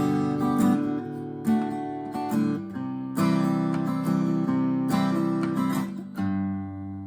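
Country acoustic guitar strummed in a steady pattern, each chord opened by a plucked root note, clean and moderately loud with no talking.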